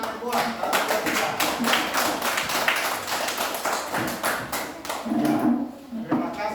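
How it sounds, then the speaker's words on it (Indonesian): A class of schoolchildren claps together on a count, a steady busy patter of many hands at close range that runs for several seconds, with some chatter underneath. "1, 2, 3, tepuk tangan semua"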